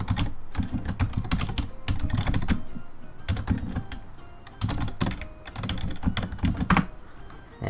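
Steady typing on a computer keyboard, close and continuous, with rapid clicking keystrokes in bursts and brief pauses, no voices.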